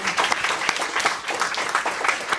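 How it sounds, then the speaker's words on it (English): Applause from an audience after a film screening at a university Q&A, brisk uneven clapping of a modest crowd, fairly close and lively for a couple of seconds. "another round of applause"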